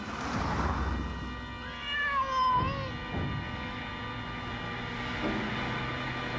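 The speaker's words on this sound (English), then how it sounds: "Mind the cats. Don't mind the cats." Indoor cats meow close by, one drawn-out rising and falling meow followed by a shorter cry, over a steady background hum, with no talking.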